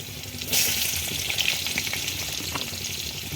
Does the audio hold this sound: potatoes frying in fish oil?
yes